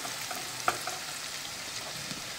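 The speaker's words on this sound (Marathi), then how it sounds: "मीडियम गॅसवर कांदा एक अर्धा मिनिट परतून घेऊया छान" Onion frying in oil in a pan over medium gas, a steady close hiss of sizzling with a brief clink of stirring, no voices.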